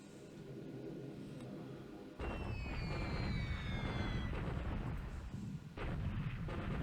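Bombing run on an airfield in a World War II Pacific strategy video game set around Singapore in 1942: after a quiet stretch, falling whistling tones cut in over a heavy, continuous rumble of explosions that stays loud to the end.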